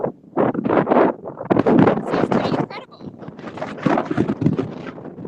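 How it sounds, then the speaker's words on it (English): Strong wind buffets the microphone in rumbling gusts while people talk loudly over it. "Yeah, it's pretty windy, so we're trying not to blow off the side here."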